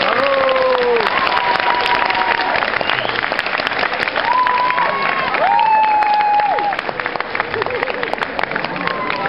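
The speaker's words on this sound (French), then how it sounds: "Je vais vous demander de l'applaudir bien fort." Live comedy show audience applauds loudly and steadily for several seconds, a thick continuous clapping mixed with crowd noise, while a performer's amplified voice keeps speaking over it.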